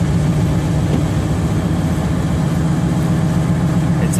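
A car engine droning steadily while driving to work on a snowy April day, a loud, continuous low rumble with road noise and no speech.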